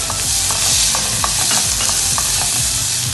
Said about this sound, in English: Now I am going to add chopped tomatoes